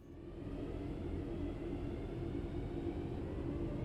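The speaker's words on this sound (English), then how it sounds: "try and get the train up to that speed" A Class 323 electric train in the simulator Train Sim World 6, running between Birmingham New Street and Wolverhampton, with a steady low rumble and rolling hum that builds slightly at the start and then holds evenly.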